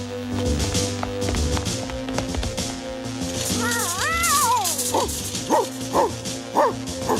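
A dog barks and yips repeatedly while chasing, a run of sharp rhythmic barks toward the end, mixed with whining, cat-like cries and background music in a cartoon setting.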